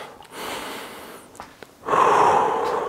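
Heavy, deep breaths close up after a HIIT workout: a long exhale, a pause with a couple of sharp sniffs, then another loud, forceful breath out.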